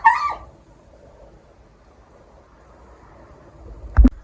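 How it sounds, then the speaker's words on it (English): A dog gives a short sharp yelp after biting its own foot indoors, a brief cry at the start, followed by quiet and a small thump near the end. "My dog bit his own foot and yelped."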